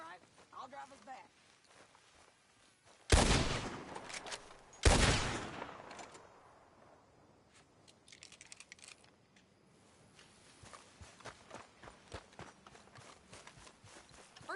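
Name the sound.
gunfire in the video game Red Dead Redemption 2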